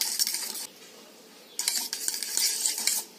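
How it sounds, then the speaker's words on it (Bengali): A spoon stirs white oil into a batter in a bowl, two bursts of quick scraping and clinking with a quieter pause between them, close up and with no voices. "এটাকে আমি ভালো করে মিশিয়ে নেব। আমি এটা চামচ দিয়ে করছি"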